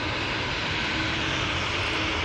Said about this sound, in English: Beautiful TUI Dreamliner. First touchdown on 23 right.